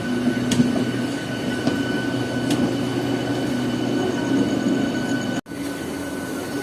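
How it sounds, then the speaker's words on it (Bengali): Howrah–Midnapore fast local train pulling out of Tikiapara station, heard from inside as a steady rumble with a faint whine and a few soft clanks, fairly loud and continuous, cutting off briefly near the end. "হাওড়া স্টেশনের পরের স্টেশন টিকিয়াপাড়া আমাদের ট্রেন ছেড়ে দিল"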